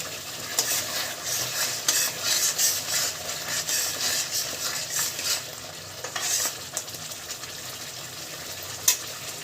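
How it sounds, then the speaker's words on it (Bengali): Spice paste for jackfruit and prawn curry sizzles in a pan while being stirred steadily, with rhythmic scraping strokes over a constant frying hiss and no speech. "মশলাটা ভালোভাবে কষিয়ে নেব"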